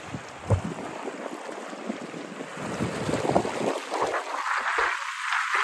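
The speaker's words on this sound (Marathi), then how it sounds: "मी आता गप्पू बसते तुम्ही पाण्याचा आवाज ऐका" Water moving along the shore at Tobermory, a steady rush of waves and lapping with wind buffeting the microphone, continuous and fairly close, with no voices.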